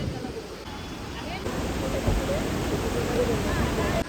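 Heavy rain pours at Gagangiri Maharaj Math, a dense steady hiss of falling water that swells louder partway through and holds close and full, with a strong water flow nearby.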